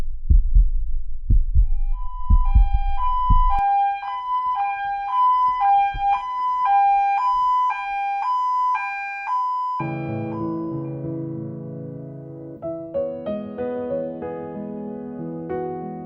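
Ambulance siren wails in a repeating two-tone pattern at moderate loudness, preceded by low thumping beats and giving way to a dense musical swell.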